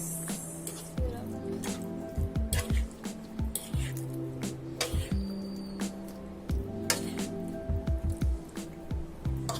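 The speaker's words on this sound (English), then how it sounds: "To this I'm going to add the pasta. The pasta water. Mix it up." Cooked pasta being stirred together with starchy pasta water up close, with wet squishing and slapping, scattered drips and short pauses between bursts of mixing.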